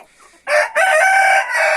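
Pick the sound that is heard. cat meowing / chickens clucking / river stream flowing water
chickens clucking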